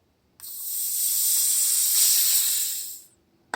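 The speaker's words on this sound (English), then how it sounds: "you can hear the suction release out of there" Air hisses steadily into a vacuum blender container as its lid releases suction, a bright continuous rush lasting about three seconds before cutting off, close and fairly loud with no talk over it.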